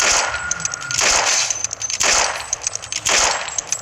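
Gunfire in a mobile shooter video game: three sharp bursts of rapid shots with metallic clinks, spaced about a second apart, close and loud with no talking.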